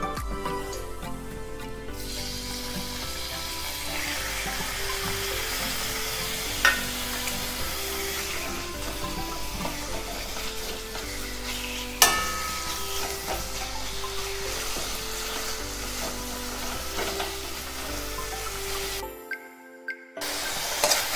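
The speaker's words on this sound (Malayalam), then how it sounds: "ഇതിലേക്ക് നമുക്ക് മീൻ ഇട്ട് കൊടുക്കാം." Dried fish sizzles steadily in a hot wok while being stirred, a continuous close frying hiss with occasional scrape clicks, music faintly underneath, before a brief drop near the end.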